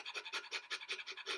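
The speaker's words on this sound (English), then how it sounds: "A bit of light panting." Light, quick panting done as a vocal warm-up, a steady rhythm of soft breathy huffs, about eight in a second and a half, close and quiet with no talking.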